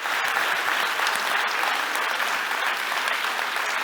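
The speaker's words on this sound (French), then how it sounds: "Voilà un autre applaudissement." Dense, steady audience applause fills the room at a talk about forgiveness, a continuous wash of many hands clapping at even loudness with no voices on top.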